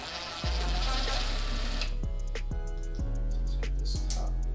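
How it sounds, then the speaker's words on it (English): A powered driver runs a screw into a broken airbox clip on a Volvo 745 turbo, giving a close, steady whirr with rapid repeated ticking that starts abruptly and carries on for several seconds. "Run the screw in and then back it out so I can get my threads in."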